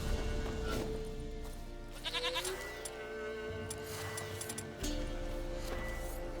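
A goat bleats in the video game The Witcher 3: Wild Hunt, several wavering nasal cries near the start and middle over a soft in-game background, with no one talking.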